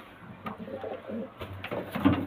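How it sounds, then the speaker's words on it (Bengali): Giribaz and other fancy pigeons sold as a matched pair give soft, throaty coos that rise and fall in short bursts. The calls sit close but fairly quiet over a faint hum, growing slightly louder toward the end. "দেখুন খুব সুন্দর পায়রা"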